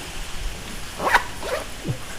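Rain falls steadily in an outdoor street setting during a motorbike ride, a soft, even patter through a short stretch with a few brief sharper sounds.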